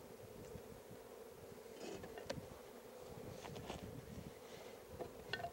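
Honey bees buzzing around a hive while a deep brood box is moved, a continuous close droning hum with scattered brief knocks and rustles from handling.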